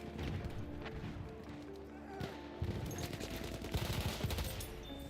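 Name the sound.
machine gun fire in video game Battlefield 1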